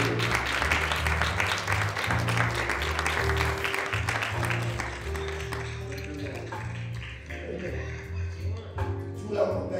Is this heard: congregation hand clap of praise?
yes